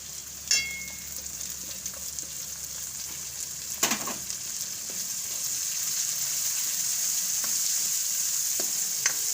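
Onion and peas fry in hot oil in a pan, a steady bright sizzle with a few sharp clinks and scrapes of stirring, fairly quiet and close with no talking.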